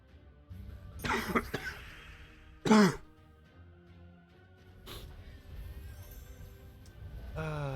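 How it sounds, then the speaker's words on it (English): A man clears his throat and coughs a few times close to the microphone, the harsh bursts separated by quieter stretches and a faint sigh. "Got an annoying cough occasionally and stuff."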